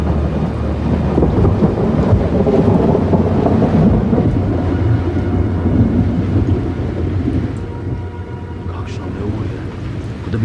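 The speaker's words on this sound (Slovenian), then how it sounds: "Da bi se približeval vihar." Rumbling thunder from an approaching storm rolls continuously with wind and rain-like hiss, loud and dense, easing slightly toward the end.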